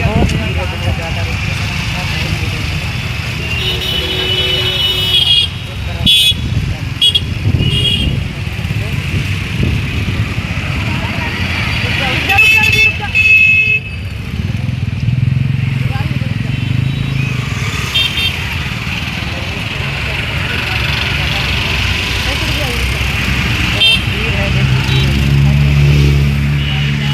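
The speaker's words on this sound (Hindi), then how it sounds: "और बहुत गाड़ी सब चल रही" Dense road traffic streams past close by, with cars and motorcycles droning and revving under frequent horn toots, while someone talks over the noise throughout.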